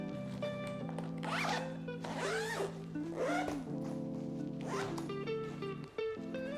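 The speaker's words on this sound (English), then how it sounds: "So we're gonna zip that up." A July carry-on suitcase is zipped shut in several quick, close rasping pulls with short pauses between them, clear and alone in a quiet room.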